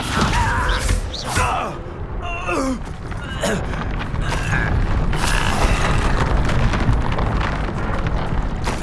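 The Descendo spell being cast in the video game Hogwarts Legacy: a loud, rumbling magical whoosh and boom, dense and continuous, with swirling tones and heavy low-end impact throughout.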